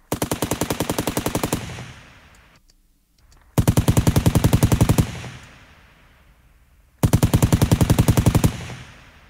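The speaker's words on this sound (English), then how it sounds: "a much more thicker, deeper sound for your gunshots" Rapid machine-gun style gunshot bursts, thickened and deepened with Waves MaxxBass harmonics, three loud sustained volleys each followed by a decaying tail and near silence.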